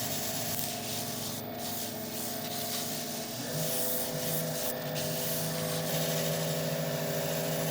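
Friction polish rubbed onto a spinning Black Locust and soapstone inlay piece on a wood lathe makes a soft, continuous rubbing hiss over the lathe's steady hum, quiet and close throughout.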